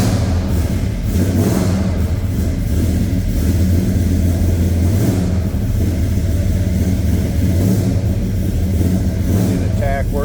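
A 1970 Chevrolet C10 pickup's V8 engine runs loud and close after a cold start, a steady rumbling idle with a few faint blips of revving, and no talk over it.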